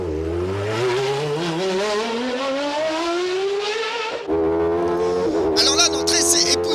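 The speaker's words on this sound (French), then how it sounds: "Et c'est la ligne droite avec derrière nous la symphonie du V10." Peugeot 905 V10 race car flat out on the Circuit du Castellet straight, a loud, near, high-pitched engine wail rising steadily through a gear, then a sharp shift and climbing again.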